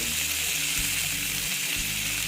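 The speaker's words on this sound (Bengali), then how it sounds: "আমি ভেজে নিচ্ছি আস্তে আস্তে ভেজে নিচ্ছি" Pabda fish gently frying in a pan of oil for a mustard-poppy curry, a steady close hiss and sizzle running unbroken, with a couple of brief low knocks beneath.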